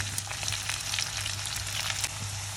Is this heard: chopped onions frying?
yes